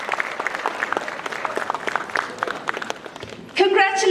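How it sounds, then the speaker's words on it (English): A crowd at a state-level school battle of the bands claps steadily for a few seconds, fairly close, then a voice on a loudspeaker cuts in over the end of the applause. "Can we have another big round of applause to congratulate the band?"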